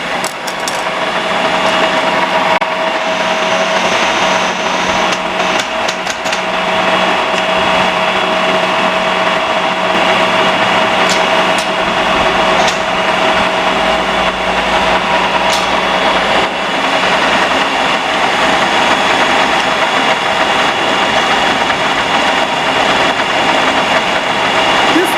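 A universal milling machine cutting the top face of a steel Charpy V-notch impact test sample, giving a loud, steady, continuous motor and cutting whine with faint intermittent clicks, no speech.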